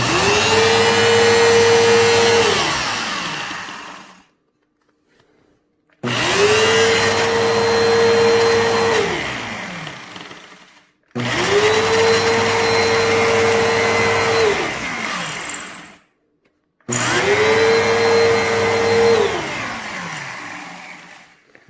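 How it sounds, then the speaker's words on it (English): A loud Bissell upright vacuum cleaner roars close by, switched on and off four times, each run a steady whining drone followed by a short silence. "now I'm going to turn on the vacuum. That thing should spin."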